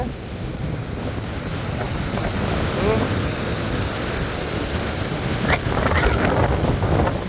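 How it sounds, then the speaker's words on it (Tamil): Strong wind buffets the microphone on the Colombo sea shore during rough, churning seas, a loud continuous roar mixed with surf, with a voice faintly under it. "பயங்கர காத்தா இருக்கு"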